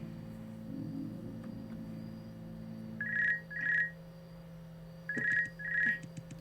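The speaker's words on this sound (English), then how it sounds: "Please allow me to pick up the phone. Change your ringtone." A telephone rings in the game Vincent The Secret of Myers, two short electronic trills, then a pause, then two more, heard over a low steady hum.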